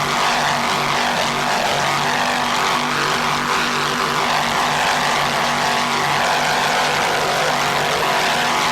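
An offshore racing powerboat with twin 640 hp Troy Denison engines and a number 3 Mercruiser drive roars steadily and loudly at close range at a 1995 grand prix, a dense unbroken engine drone.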